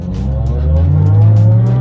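A Lotus Exige 260 Cup or BMW E46 M3 CSL is driven hard, with a loud, close engine note rising in pitch as it accelerates over a short burst.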